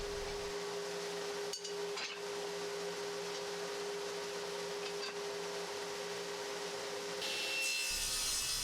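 Hand saw cutting one-foot wooden boards into short lengths for coasters, a steady rasping stroke with a constant hum underneath, ending in a louder burst of noise near the end.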